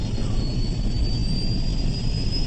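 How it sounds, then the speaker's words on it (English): A second jet engine on a TACA Flight 110 airliner starting up: a steady, loud roar carrying a thin high whine that holds continuously, with no voices. "Captain Soleil is taking the steps to fire up the second engine"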